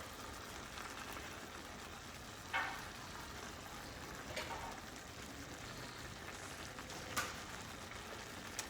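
Stuffed tofu frying meat side down in a hot pan gives a quiet, steady sizzle throughout, with a few faint pops and crackles breaking through the soft hiss.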